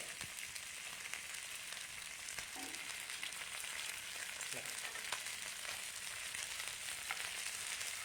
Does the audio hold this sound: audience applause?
no